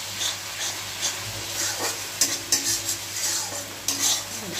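Spices cooking in oil with Kashmiri chili powder, stirred in a pan: a hissing sizzle broken by repeated scraping and clinking of a metal spoon against the pan, close-up with no talking.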